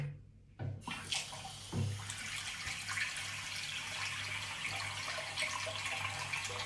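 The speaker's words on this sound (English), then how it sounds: "Then you're going to run some warm water, not hot, not cold." Warm tap water runs steadily into a sink for washing a human hair topper, a continuous close splashing stream that starts after a brief silence, with a few small knocks early on.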